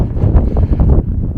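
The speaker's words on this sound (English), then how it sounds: "a little windy." Strong wind buffets the microphone in open desert at the KOFA National Wildlife Refuge in Arizona, a loud continuous rumbling roar with gusts and no talk.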